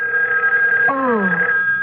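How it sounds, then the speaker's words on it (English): An old-fashioned telephone bell rings steadily in an old-time radio mystery drama, a bright sustained tone held throughout, with a brief descending sliding tone partway through. "But it might be Betty ringing to make sure Bob dropped off the stuff"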